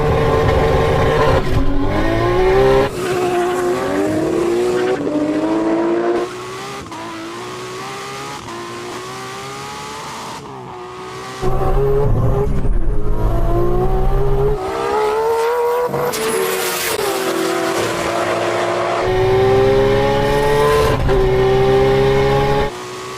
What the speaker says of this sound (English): race those two cars over the standing quarter mile